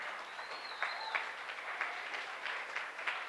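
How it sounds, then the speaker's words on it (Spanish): A church congregation claps in a fairly faint, uneven applause during a service, with scattered louder claps and a thin tone drifting in behind. "Den un aplauso al Señor."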